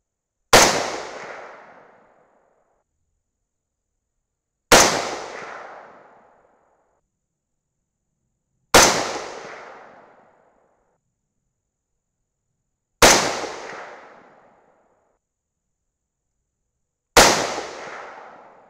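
Five 6.5 Grendel rifle shots firing 140gr Hornady Match BTHP bullets over VihtaVuori N540 powder, each a sharp loud crack with a decaying tail, spaced about four seconds apart, with no talking.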